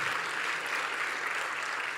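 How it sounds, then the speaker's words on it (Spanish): Conference audience at a science congress applauding as a speaker is welcomed on stage, a steady, even roar of many hands clapping. "Por favor, un aplauso para Jan."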